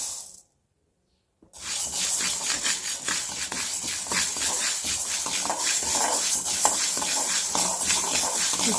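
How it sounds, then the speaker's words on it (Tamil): Green gram dry-roasting in a pan while being stirred, a steady dry rattling and scraping of the beans against the metal after a brief silence at the start, continuous and fairly close. "இது நல்லா வாசம் வர்ற வரையும் இந்த பயிரை நல்லா வறுத்துக்கிடலாம்"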